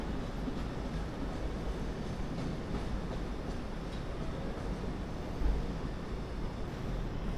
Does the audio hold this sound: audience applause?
no